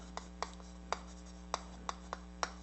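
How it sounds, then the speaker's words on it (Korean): Pen on paper, written by hand during a lecture on real estate law, making about seven short scratchy strokes in an uneven rhythm, close and fairly clear over a constant electrical hum. "일단 한번 써볼게요."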